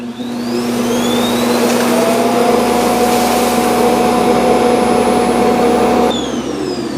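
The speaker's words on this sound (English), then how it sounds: "It's gonna auto empty and clean the mop pads and then dry them." A eufy X10 Pro Omni robot vacuum dock auto-empties with a loud, steady suction roar that runs for about six seconds under a faint high whine, then cuts off abruptly near the end.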